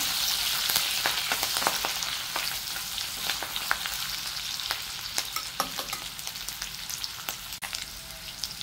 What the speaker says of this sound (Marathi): लसूण वगैरे चांगला परतून घ्यायचा तेलामध्ये